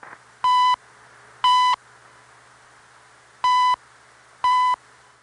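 Four short, steady electronic tone beeps from a shortwave radio station before sign-on ring out in two evenly spaced pairs over faint background hiss.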